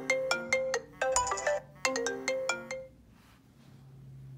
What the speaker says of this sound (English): Let's see if the ringtones work.